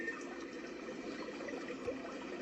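A water track plays from a small 4-in-1 Bluetooth speaker and white noise machine, a soft steady rushing wash like running water, faint and even, no voices.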